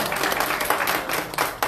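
A church congregation breaks into dense, steady applause for a guest speaker at a Sunday service, sustained and fairly close throughout with a few sharper bursts near the end.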